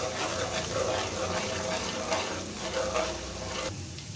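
Garlic frying in a pan while stirred, a steady close sizzle with scraping under faint background sounds, continuous throughout.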